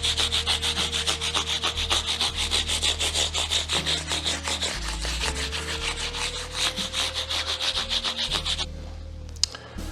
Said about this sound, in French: On va faire un dernier ponçage du manche